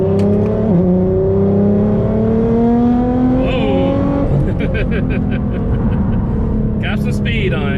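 A Nissan GT-R with 780 crank horsepower and all-wheel drive launching hard on launch control, its engine roaring up through the revs with quick gear-change dips, loud and close from inside the car, with a voice heard over it.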